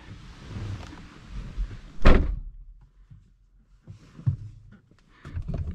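Someone climbs into a Krypton green Camaro and shuts the door with one heavy, close thunk, surrounded by shuffling and rustling movement inside the car.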